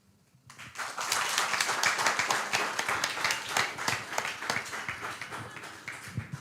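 An audience claps after a talk at the kanthariTalks 2023 event, a dense burst of applause that starts suddenly and holds steady, then thins slightly toward the end; sustained and fairly close, with no speech over it.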